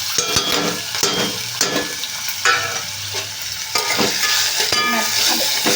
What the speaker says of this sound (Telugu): ఇప్పుడు దీంట్లో ఉల్లిపాయలు పచ్చిమిరపకాయలు అయితే ఫ్రై చేస్తున్నాం